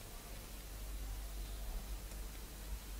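Faint, steady hiss from the end of a Tesla coil speaker kit's coil, continuous and very quiet with no pauses and no voices.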